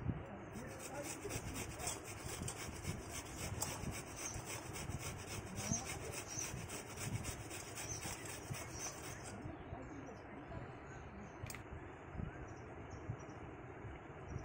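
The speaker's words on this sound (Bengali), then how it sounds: "আমাদের গাজরটা ঘষা হয়ে গেছে" A peeled carrot is grated by hand, producing steady, rhythmic rasping strokes close by throughout, with a thin high whine in the background during the first part.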